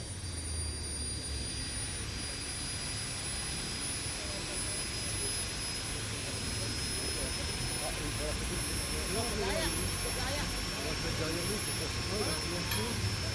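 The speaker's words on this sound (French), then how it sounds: "Voilà, la phase de test du moteur." Jet engine of the Aérotrain during a test run roars steadily and loudly throughout, a broad continuous rush with a high whine, while people talk underneath.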